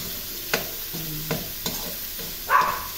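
Sweet ham and small slices of hotdog frying in a pan for fried rice, a steady soft sizzle with a few sharp clicks and scrapes of stirring, close by and with no talking.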